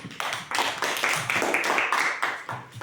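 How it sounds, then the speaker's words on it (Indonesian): A crowd claps together in a burst of steady, fairly loud applause that runs for a few seconds before tapering off. "Berikan tepuk tangan"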